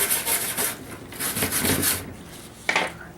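A wire brush scrubs roughly across greasy motorcycle fairing plastic in steady back-and-forth strokes, close and fairly loud, with a sharp knock near the end.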